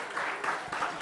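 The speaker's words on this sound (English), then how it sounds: "And one more big round of applause." Audience applause follows a Bharatanatyam dance performance at an Easter festival: a brief, steady wash of many hands clapping, heard at a moderate distance.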